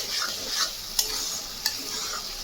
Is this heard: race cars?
no